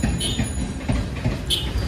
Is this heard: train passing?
yes